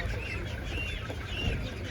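Chickens at a Ukrainian livestock market, soft clucking amid steady low market noise and murmur, fairly faint and continuous.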